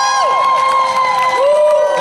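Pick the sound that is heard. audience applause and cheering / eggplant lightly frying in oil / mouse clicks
audience applause and cheering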